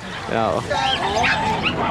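A small Chihuahua yips and whimpers in quick, high, strained bursts close by, with people's voices mixed in around it.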